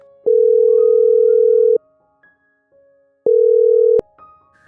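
Two long steady electronic tones with a gap between them, each lasting over a second, sound while a phone call is placed to Raj at home; a faint click and brief rustles follow.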